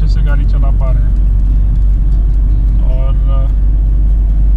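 A Tata Tiago cruising on a good highway in Jharkhand during a long Bangalore-to-Bihar road trip gives a steady, loud cabin rumble of road and engine noise, with a voice talking over it.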